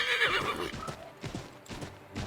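A horse in Assassin's Creed III whinnies loudly and close at the start, then its hooves clip-clop in an uneven, rhythmic trot.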